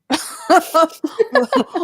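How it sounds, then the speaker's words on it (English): A rapid fit of harsh whooping-cough coughs, about seven short bursts in quick succession, loud and close. "Whooping cough."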